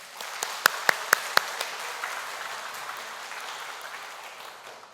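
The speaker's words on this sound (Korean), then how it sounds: "박수 한 번 더" A church congregation applauds the choir during a Sunday afternoon service: a few sharp claps up front, then a steady wash of softer applause that fills the room.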